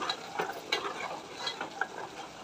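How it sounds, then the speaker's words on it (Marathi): A spoon stirs coriander, cumin and garam masala powders in a pan, giving soft scraping and clinking strokes over a low sizzle. The sound is close and moderately quiet, with no voices. "1 चम्मच धना पावडर, 1 चम्मच जिरा पावडर, अर्धा चम्मच गरम मसाला छान प्रकारे मिक्स करून"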